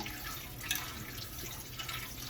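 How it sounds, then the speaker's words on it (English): Tap water runs steadily over salted chow chow relish vegetables as they are rinsed in a pot or colander, a soft continuous splashing with light drips, fairly quiet and close. "I want to rinse the salt out of all of it"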